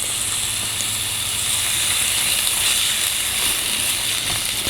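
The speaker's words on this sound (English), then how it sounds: "We're gonna saute our onions and our carrots." Onions and carrots sautéing in a pan give off a steady, even sizzling hiss, continuous and fairly close, with no talk over it.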